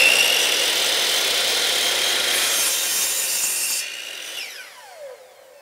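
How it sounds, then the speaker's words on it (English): A chop saw cuts through a laminate wood flooring plank, loud and close, with a harsh, steady buzzing rasp for nearly four seconds before the blade winds down with a falling whine. "Now the chop saw makes sure that you have a nice consistent 90 degree angle."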